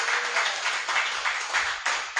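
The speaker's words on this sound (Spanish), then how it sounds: "¿Cuánto le podemos dar palmas," A church congregation claps together during a worship service, steady rhythmic palms filling the room at moderate level with no voices over it.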